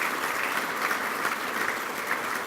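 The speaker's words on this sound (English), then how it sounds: "Let's give a round of applause for Kelly." Audience at a touchdown club luncheon applauding, a continuous even wash of many hands clapping, moderately distant and steady throughout.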